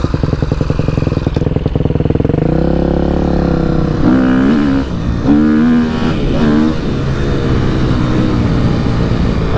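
A KTM SXF 250 dirt bike engine revs hard while riding, loud and close, its pitch climbing and falling in repeated throttle bursts with a rattly mechanical edge and no voices.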